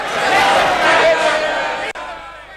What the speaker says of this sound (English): As soon as she entered the chamber, her party rose to cheer her.